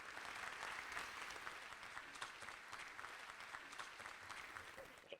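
Audience applause at an annual transit organization meeting, continuous crowd clapping at a fairly distant, quiet level, holding steady for several seconds with speech mixed faintly underneath.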